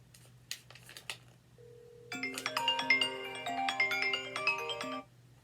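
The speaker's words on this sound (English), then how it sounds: "As you can hear, my phone rang perfectly fine through the piece of paper" A mobile phone wrapped in a sheet of paper rings out with a melodic ringtone, a short run of electronic notes at moderate volume after a few quiet taps, clear and unmuffled.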